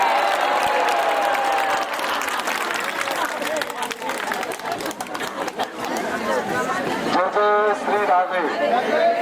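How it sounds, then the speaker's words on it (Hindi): Audience at a Hindu religious discourse applauding and laughing together, a dense wash of clapping and chatter filling the room, with voices rising near the end. "सभी एक बार ताली बजा के जोर से हंसेंगे"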